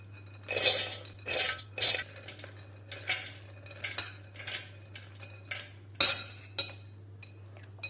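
Soybeans are tipped into a mixer grinder jar in a home kitchen while making tofu: a close series of short clattering clinks and rattles in bursts, over a low steady hum.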